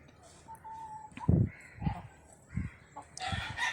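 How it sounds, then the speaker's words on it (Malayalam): Hens clucking and a rooster crowing at a rural home kitchen, several short, loud calls and squawks bursting out close by over quiet background noise. "അതിനിടയ്ക്ക് കോഴികൾ ബഹളം ഉണ്ടാക്കി"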